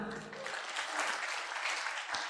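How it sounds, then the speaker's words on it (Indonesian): Audience applause at an Indonesian business marketing seminar, a steady, full burst of many hands clapping that holds evenly throughout at moderate distance. "Tepuk tangan."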